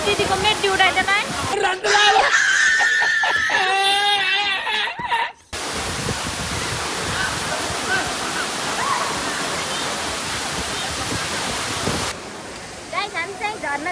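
Mohini waterfall roars as a steady, loud rush of falling water. Voices talk over it early on, then the torrent runs on its own before more voices return at the end.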